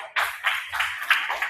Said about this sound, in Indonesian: Tepuk tangan buat Fikri.